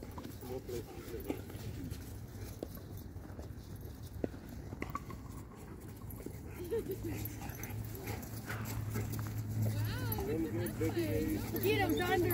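A Caucasian Ovcharka plays with other dogs at the American Fork dog park in winter, with barks, yips and scuffling throughout under steady outdoor background noise, and people talking nearby.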